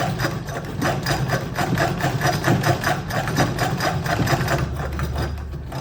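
A 100-year-old mechanical sewing machine stitches steadily in straight stitch, its rapid rhythmic clatter running continuously with a low motor hum beneath.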